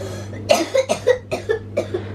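A series of about six short coughs in quick succession, close by, over a low steady hum.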